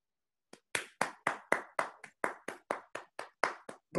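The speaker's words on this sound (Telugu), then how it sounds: "ఇప్పుడు చప్పట్లతోటి ఈ క్లబ్ సభ్యులందరికీ ఆమోదం తెలపాల్సిందిగా కోరుచున్నా" Crisp, evenly paced claps at a Lions Club of Karimnagar Sahaya installation ceremony, about fourteen sharp beats in a steady rhythm, close and clear against silence.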